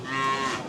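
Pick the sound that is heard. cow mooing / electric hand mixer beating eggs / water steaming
cow mooing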